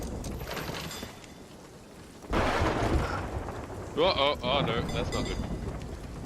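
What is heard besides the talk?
lightning strike thunder and rain in Sea of Thieves video game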